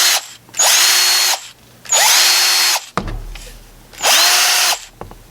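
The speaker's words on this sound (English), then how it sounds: "So the real test now is to connect it to the drill" A Ryobi One+ cordless drill on a repaired P102 lithium-ion battery spins up in three loud, close bursts, each whirring for about a second with short pauses between.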